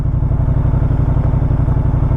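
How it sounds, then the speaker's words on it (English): A warm Moto Guzzi V100 motorcycle engine pulls away with a known clunk and lurch, heard as a loud, close, steady throbbing rumble. "there's that jump and there's that clunk that has been there from day one, but it's more noticeable when the engine is warm"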